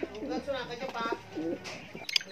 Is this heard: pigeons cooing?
yes